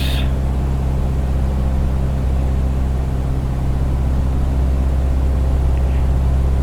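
Steady droning engine of a Cessna 152 at about 2000 RPM in flight, modelled in Microsoft Flight Simulator, a continuous loud low hum with even harmonics and no talk.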